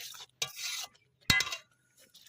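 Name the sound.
stirring papaya ghanto with ghee in pan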